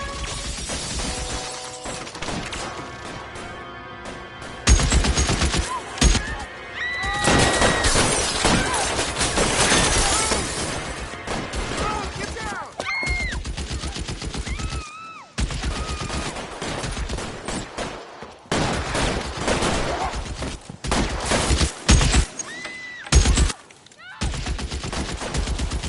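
Gunfire in the video game L.A. Noire: a long, chaotic firefight with loud repeated shots, bursts of rapid fire and shattering glass, broken by short pauses, mixed with other game sounds and occasional voices.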